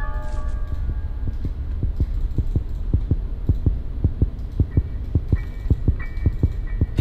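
Steady thudding heartbeat in the Granny horror video game, a regular double-pulse rhythm that starts softly and grows louder and more prominent over a low hum, with no voice over it.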